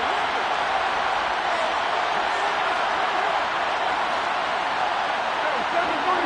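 A Madden 23 stadium crowd rises into a steady, dense roar ahead of a big third down, with a continuous hiss of noise throughout.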